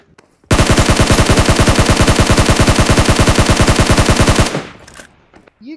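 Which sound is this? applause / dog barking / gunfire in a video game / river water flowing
gunfire in a video game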